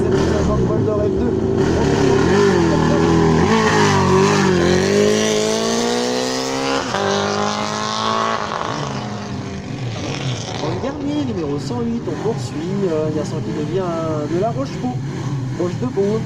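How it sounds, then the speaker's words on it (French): A Honda 750 Bol d'Or F2 motorcycle engine at a vintage bike gathering revs and rises in pitch, then settles into uneven throttle blips, fairly loud and close, with a commentator talking over it. "Philippe Ballon nous rejoint également, le numéro 106 qui vient de la région lyonnaise, la Honda 750 Bol d'Or F2"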